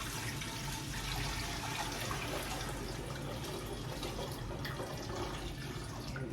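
Eight cups of water poured for a dill pickle brine, a steady rushing stream like a running tap, continuous and fairly even for several seconds, with no talking.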